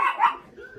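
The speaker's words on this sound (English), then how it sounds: "What are you barking at?" A pet dog named Dobby gives two sharp, close barks in quick succession, followed by a brief soft whine, with no talking over it.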